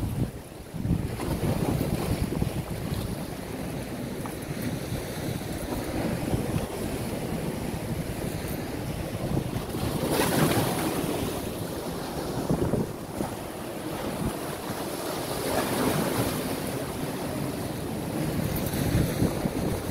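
Big ocean waves crash against a rocky shoreline on Guam, a loud, continuous roar with rolling surges and heavy wind buffeting the microphone, and no one speaks.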